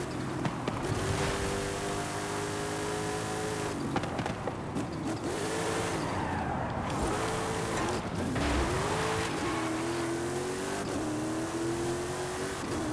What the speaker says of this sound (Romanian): Da, acum accelerează. Ca o McLaren.